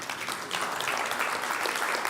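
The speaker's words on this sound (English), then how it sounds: "Do I get a round of applause?" Brief, dense applause from a conference audience, steady and moderately loud throughout, with no talking over it.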